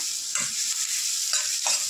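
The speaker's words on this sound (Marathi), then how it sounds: "आता शिमला मिरची आणि कांदा आपण तेलामध्ये छानपैकी भाजून घेऊया." Onion and capsicum sizzling in hot oil in a pan, a steady bright hiss with a few soft stirring scrapes of a spoon, close and continuous, no voices.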